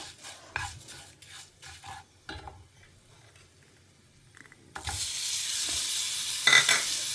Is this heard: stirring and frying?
yes